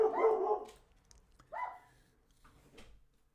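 Puppies barking indoors in short, sharp yips and bow-wows: a louder burst at the start, then a second bark and a few fainter yaps, fairly close with quiet gaps between.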